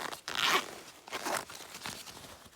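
A zipper on the chest armour pocket of a motorcycle jacket is pulled in a few quick, close rasping strokes, with the first pull loudest. No one speaks.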